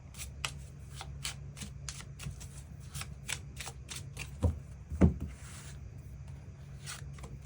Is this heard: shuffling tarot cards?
yes